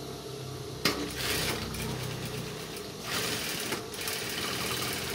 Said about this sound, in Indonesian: Ini kita jahit sampai ke bagian ujung.